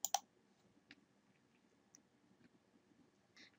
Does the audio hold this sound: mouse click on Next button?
yes